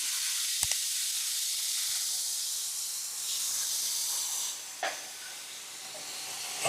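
Tomato and mango paste added to hot oil with mustard seeds, giving a steady broad hiss of frying sizzle throughout, with a couple of brief sharp pops and crackles.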